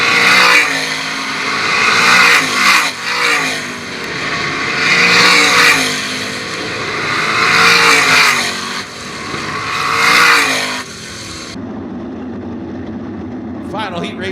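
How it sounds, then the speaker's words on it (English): Fremont Fence 305 sprint cars race at Attica Raceway Park, engines swelling loud and fading in repeated waves as the pack laps past, with a track announcer talking over the roar. "Final heat race for the Fremont Fence 305 sprint cars."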